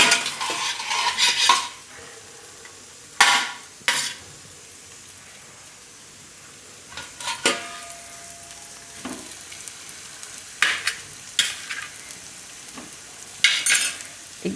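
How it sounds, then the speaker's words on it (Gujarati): Cauliflower tossed into a pan of cooked garlic and stirred, giving bursts of scraping and clattering against the pan separated by quiet pauses, with a soft sizzle underneath. "હવે આમાં આપણે નાખી દઈશું ફ્લાવરને."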